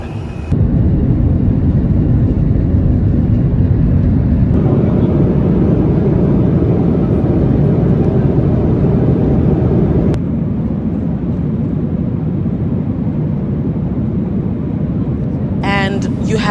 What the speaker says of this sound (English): I'm in the air on an international flight.